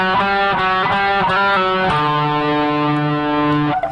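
Distorted electric guitar plays the lead riff at full speed: quick hammered and pulled notes, then a long sustained bent tone, loud and close with no voice.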